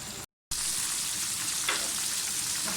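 Broast chicken fries in hot oil over a medium flame, giving a steady, close crackling sizzle with a brief dropout near the start.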